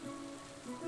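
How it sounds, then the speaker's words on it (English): Rain falls in the farming game Stardew Valley, a soft continuous patter with a faint tonal hum underneath, no voices. "and it's even raining"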